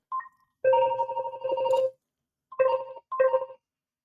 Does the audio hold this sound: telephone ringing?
yes